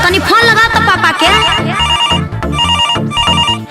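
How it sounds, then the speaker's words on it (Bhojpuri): A phone rings while someone calls their father, a loud repeating electronic ringtone melody heard up close and alone. "अरे बबुआ तनी फोन लगा तो पापा के।"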